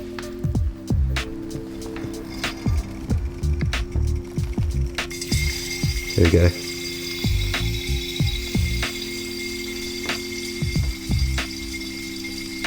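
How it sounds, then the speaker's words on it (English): Spray paint flowing from a bottom can into a top can while mixing, heard as irregular clicks, ticks and soft squishing pulses close up, with a brief burst midway and a few spoken words. "So I'll press it and we'll see if you can hear the paint mix."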